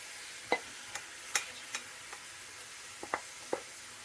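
Sauce is poured into leftover pork fried rice sizzling in a pan, with a soft continuous sizzle broken by several light clinks and scrapes of a utensil against the pan, no voices.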